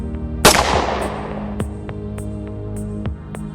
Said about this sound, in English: The gunshot cracked sharply.